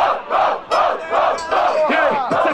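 Rap battle crowd shouting in rhythmic bursts, loud repeated chants with a call-and-response pulse, close and energetic.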